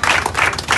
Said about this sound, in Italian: Per l'organizzazione vi facciamo subito un applauso.